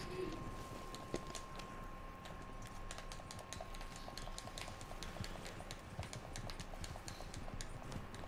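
Horse hooves clip-clop steadily in Red Dead Redemption 2, a quiet, even trot running through the whole stretch under a dense game soundscape with a faint steady tone.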